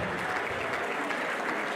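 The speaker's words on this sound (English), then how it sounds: "Round of applause for everyone here at the Bolingbrook Golf Club." Dense, steady applause from a fundraiser audience at the Bolingbrook Golf Club, a continuous wash of many hands clapping at once, moderately distant and even in level throughout.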